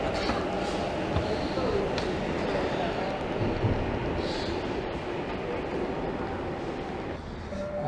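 A Sydney light rail tram pulls away along the track, a continuous rolling rumble with faint squeals and clatter of the wheels amid street noise, with people's voices around.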